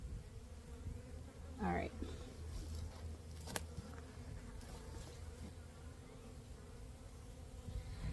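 Honey bees buzz steadily inside an opened hive whose colony has swarmed, a dense close hum with one bee flying past near the mic, while a person briefly speaks.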